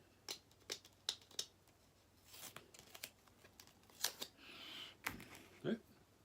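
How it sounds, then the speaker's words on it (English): Painter's tape peeled off, several short sharp ripping strips at irregular intervals, close and fairly quiet, with a voice briefly in between. "Take the painter's tape off."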